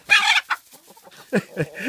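A farmyard hen lets out a loud, sharp squawk followed by several shorter clucks and cries, close by and with no talking.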